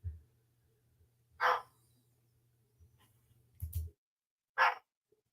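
Several separate dog barks, sharp and fairly close, spaced out with quiet gaps and a low hum underneath.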